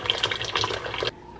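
Water pours from a tap into a bowl for washing berries and other produce, a close splashing and gurgling flow that stops abruptly near the end, with no one speaking.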